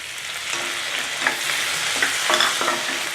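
Chopped tomatoes and onions sizzle in butter in a pan for paneer butter masala, with a spatula scraping and stirring in several short strokes over a continuous frying hiss.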